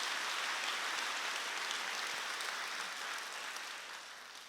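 A church congregation applauding during a Sunday worship service, a dense, steady wash of many hands clapping that fills the room and slowly tapers off toward the end, with no speech over it.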